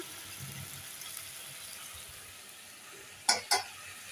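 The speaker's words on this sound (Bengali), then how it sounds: "মশলাটা কষিয়ে নি দেখো মশলাটা কষানো কমপ্লিট" Spice paste cooks down in oil for a single person's meal, making a quiet, steady low sizzle that ends with two sharp metallic clinks close together.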